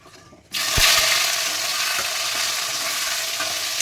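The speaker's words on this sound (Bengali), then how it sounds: "এবার যত সময় পেঁয়াজটা নরম না হয় আর এই টমেটোটা নরম না হয় ততক্ষণ একটু ভাজবো" Onions and tomatoes hit hot oil in a pan with a sudden loud burst of sizzle, then a dense, even close-up frying hiss continues with occasional stirring clinks.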